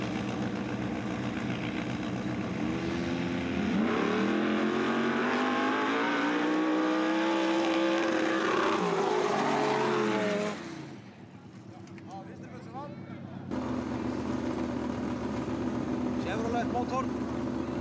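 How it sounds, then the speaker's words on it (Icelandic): A Saab Turbo races down a sand drag strip, its engine note rising loudly through a long acceleration run before cutting off abruptly, with crowd noise and talk around it. "Saab Turbo."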